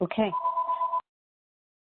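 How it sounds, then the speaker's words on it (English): A telephone sounds a steady electronic tone for about a second behind a brief spoken word over a phone line, then cuts to silence. "I apologize for the phone in the background."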